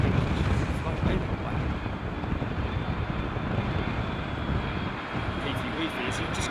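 A Boeing 747 jet at Heathrow Airport gives a steady, broad engine roar in stormy wind, loud and continuous throughout, with gusts buffeting the microphone and faint talk underneath.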